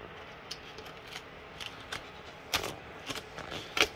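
Film covering on a 105-inch R/C EDF T-38 Talon jet model is cut, giving quiet crisp snips and rustles scattered across a few seconds, with a couple of sharper cutting bursts near the end against a soft room hiss.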